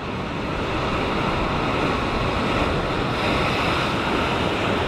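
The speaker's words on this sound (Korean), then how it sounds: "이렇게 큰 파도가 한 번씩 쭉 치고 나면" Large ocean waves crashing against sea rocks at a cliffside fishing spot near Sydney, a loud, continuous roar of surf with wind noise and no talk.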